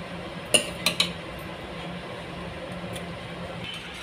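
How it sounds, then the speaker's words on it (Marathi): Vegetables being tipped into a pan of cooked onions for pav bhaji, heard as three quick metallic clinks and scrapes early on, then a quiet, steady kitchen background with no talking. "आता ही भाजी केलेली आपण याच्यात सगळी ती घालणार आहोत."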